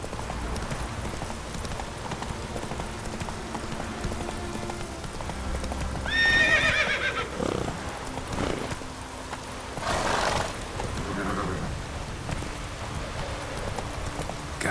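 Roach the horse galloping across Skellige in a video game, with quick, steady clip-clop hoofbeats throughout, a sharp whinny partway in and a few snorts later.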